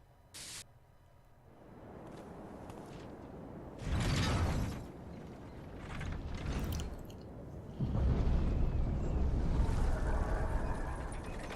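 A lever mechanism is pulled in Bloodborne, giving a short mechanical clunk followed by grinding, rumbling movement that swells into a loud, sustained heavy rush toward the end, with no talk.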